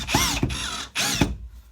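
A cordless drill driver spins a screw through a spring-loaded bit holder in two strong whirring bursts that rise in pitch, each ending abruptly, followed by quiet.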